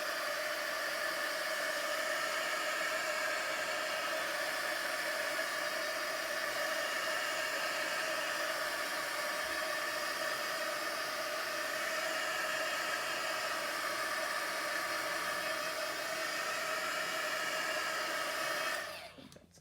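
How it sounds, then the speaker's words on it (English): A heat gun blows hot air over a spritzed journal page, a loud, steady whooshing roar that runs unbroken for nearly twenty seconds before cutting off at the end. "I'm gonna bring my heat gun in and dry it so we won't have to wait too long."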